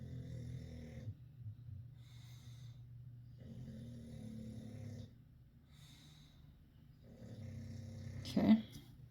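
A pet dozes nearby in a home crafting room, snoring in slow, steady, low rumbling breaths that repeat roughly every three seconds, soft and close, ending with a brief sharp snort.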